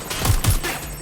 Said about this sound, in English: Someone's shooting! Shooter! Taking a cover position. Shots fired! Shots fired!